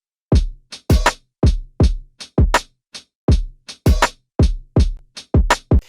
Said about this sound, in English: Lastly, let's bring in those grungy drums.